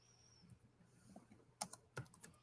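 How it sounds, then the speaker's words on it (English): Someone types on a computer keyboard in an office, the quiet key clicks arriving in a few short bursts near the end of the moment with no talk over them. "Don't you hear Cliff typing away?"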